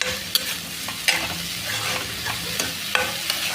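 Pumpkin pieces frying and being stirred in a pan with salt and sugar, a steady close sizzle broken by a run of sharp scraping stir strokes, with no talking.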